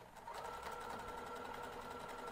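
Close and steady, a sewing machine stitching a fabric bag seam with its fast, even mechanical whirr and rapid needle clatter, running unbroken with no talking.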